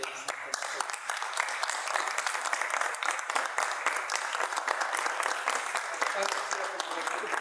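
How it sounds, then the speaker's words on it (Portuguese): An audience at a Latin American film festival applauds, dense even clapping that holds steady throughout at moderate level, with no clear voices on top. "eu quero pedir para aplaudir os dois"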